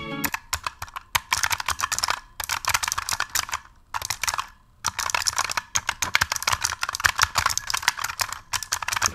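Rapid, crisp clicking of a Razer Huntsman Mini mechanical keyboard being typed on up close, in bursts with a couple of brief pauses, no voices.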